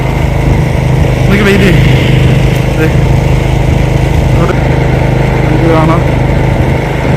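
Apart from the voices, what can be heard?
snow blower running while a neighbour clears snow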